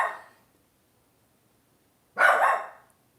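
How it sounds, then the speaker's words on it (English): A dog barks in the background of a livestream, two separate muffled barks with a long silent gap between them, no talking. "My dog is barking in the background."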